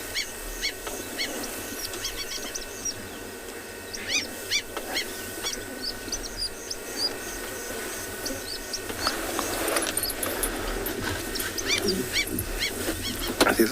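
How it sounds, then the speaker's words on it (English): African wattled lapwing calling at sunset on an East African safari, sharp repeated cries rising over a busy outdoor backdrop of other birds and insects, growing louder toward the end. "There's another bird going"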